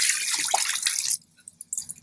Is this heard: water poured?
yes